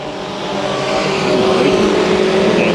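Mini stock race cars circle Santa Maria Speedway during a heat race, engines roaring loud and close as they pass, with a steady building drone and a rising whine.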